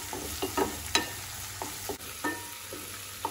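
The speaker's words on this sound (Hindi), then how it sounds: "अब इसमें हम मिर्च को मिला रहे हैं। एक मिनट चला लेंगे।" Chillies fry and sizzle in a pan for sweet corn chaat as a spoon stirs them, giving a series of light scraping taps over a constant hiss.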